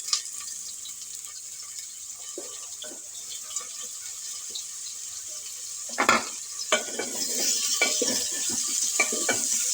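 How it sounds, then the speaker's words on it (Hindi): Eggplant pieces added to potatoes frying in hot oil for aloo baingan, a steady close sizzle with bursts of stirring and spatula scrapes that grow busier toward the end. "अब बैंगन को भी आलू के साथ फ्राई करेंगे ऑयल में"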